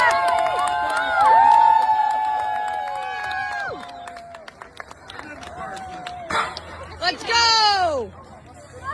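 Spectators at an outdoor truck pull event cheer with scattered whoops and rising shouts, loud bursts breaking out near the end, mixed with nearby chatter.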